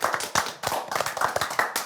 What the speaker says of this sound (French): Déjà, on peut s'applaudir tous ensemble.